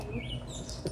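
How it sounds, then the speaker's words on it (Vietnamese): Birds chirp outdoors in a brief, faint burst of thin tweets over a low background murmur. "Ngồi đây nghe chim hót."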